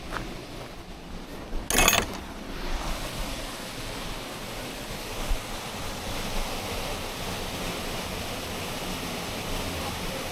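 Several small waterfalls rushing through woodland at a campsite in Cumbria, a constant broad roar of falling water with a brief louder splash near the start.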